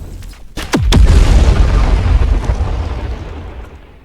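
KJ's Stoic Bomb move exploding in The Strongest Battlegrounds on Roblox: a few quick sharp pops build into one loud, deep blast that rumbles and slowly fades over several seconds.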